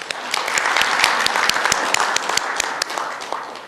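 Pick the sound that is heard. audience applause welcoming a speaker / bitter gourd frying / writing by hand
audience applause welcoming a speaker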